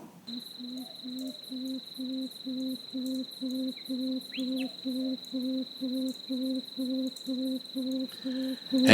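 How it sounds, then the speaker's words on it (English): Tawny frogmouth calling in a steady series of low, pulsing hoots, about twenty evenly spaced notes repeated over several seconds, heard alone against a constant high-pitched whine in the background. "That's the sound of the tawny frogmouth."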